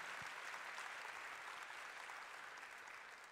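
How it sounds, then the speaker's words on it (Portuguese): A congregation applauds during a church service while visitors are welcomed, a dense, steady wash of many hands clapping, faint and distant, easing off slightly toward the end. "pode aplaudir o Senhor Jesus"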